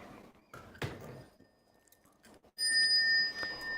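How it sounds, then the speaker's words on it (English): A bright bell rings out clearly with a sustained metallic tone during a Buddhist sutra lecture, following a few soft clicks and rustles in a quiet room. "The bell sound wide resounds"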